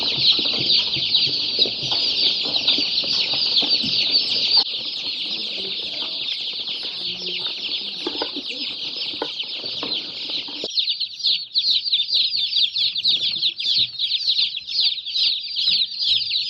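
Hundreds of Freedom Ranger and barred rock chicks peep constantly in a dense, high-pitched chorus that fills the space, loud and close, with no talking.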